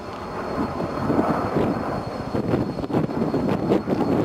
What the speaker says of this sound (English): it's a very large and heavy aircraft, extremely powerful